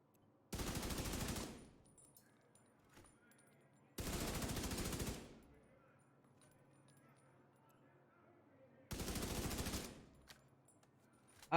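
Three separate bursts of automatic fire from a newly modded gun in The Division 2, each loud and about a second long, with near-silent gaps between them.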